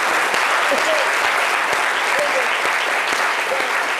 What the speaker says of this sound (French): Je voudrais qu'on applaudisse encore